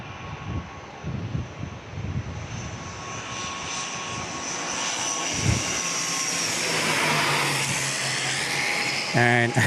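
An ATR turboprop climbs slowly out of San Diego International Airport, its propeller drone building to a steady whining roar with a tonal hum, as a voice speaks intermittently over it.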